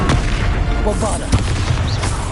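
A Bombarda blast spell detonating in Hogwarts Legacy, with heavy booms at the start and a sharper burst midway amid combat effects and a voice.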